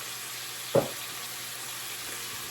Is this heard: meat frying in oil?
yes